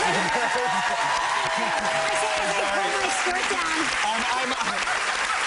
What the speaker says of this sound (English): Guys, please applaud for that.